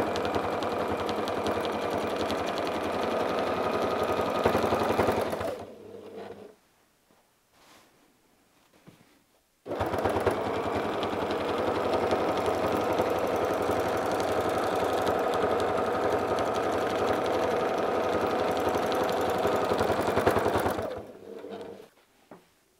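A sewing machine quilting a soft blanket along a template runs in a steady, close mechanical hum, stops for a few seconds, then runs on again at an even pace before slowing to a halt.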